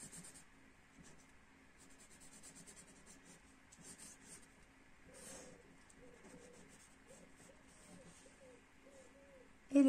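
A pencil scratches and rubs across paper in short repeated strokes while a figure is drawn, faint and close, with pigeons cooing quietly in the background.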